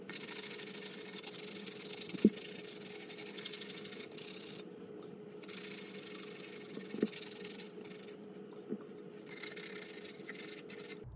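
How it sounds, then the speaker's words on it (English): Steady rubbing and scraping of a sanding block worked over a tumbler, a continuous soft abrasive hiss with a few brief louder knocks, close and fairly quiet, with no talking. "I now have my tumbler sanded"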